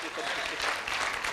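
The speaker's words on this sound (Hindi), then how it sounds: "तालियां बजाओ जरा एक बार।" Short burst of audience applause at a Hindi poetry recital, a dense, even patter of many hands clapping throughout.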